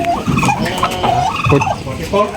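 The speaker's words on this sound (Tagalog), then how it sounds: "ito po yung pabo na kinuha ko ngayon" Several turkeys gobble in repeated bursts, loud and close, their warbling calls overlapping with little pause between them.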